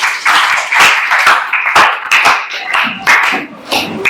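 An audience of students in a classroom claps after a group presentation, with dense, uneven clapping from many hands, loud and close, swelling and thinning over a few seconds.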